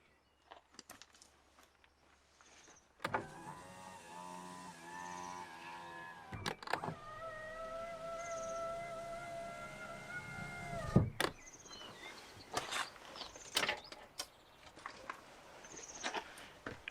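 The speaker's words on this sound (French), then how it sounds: "maintenant il n'y a plus qu'à essayer de baisser la vitre" A car's power window motor lowers the glass in two long whining runs, close and clear, with clicks and thumps of the door and switch around them.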